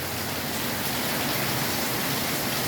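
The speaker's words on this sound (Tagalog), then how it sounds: "Maulan dito." Heavy rain falling in a constant, dense wash of hissing noise, close and even throughout, with no talking.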